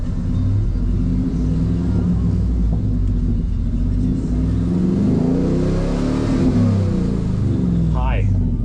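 Ford Coyote V8 swapped into a 1978 F250, engine running steadily and loud throughout with a rising rev in the middle, a speaking voice layered over the rumble.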